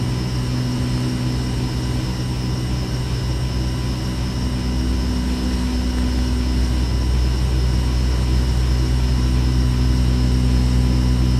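A simulated aircraft engine drones in the X-Plane 11 flight simulator during a GTN 750 precision approach, a loud, constant low hum with steady tonal lines and no talking.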